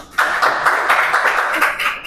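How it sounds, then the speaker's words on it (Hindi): An audience claps together for a pastor at a Christian church service, steady dense applause rising suddenly and holding loud to the end. "ताली मारो पास्टर के लिए।"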